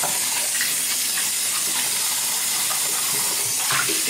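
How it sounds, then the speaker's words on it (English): Warm water pours steadily from a tap over a 3D printed shaving bowl, a loud, continuous splashing hiss that holds for several seconds without speech. "let's see what happens when I'm running this under the water right now"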